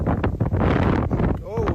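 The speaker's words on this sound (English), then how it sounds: "Oh, it's windy." Gusty wind buffets the microphone outdoors on a cold night, a loud broadband rumble running throughout while people talk over it.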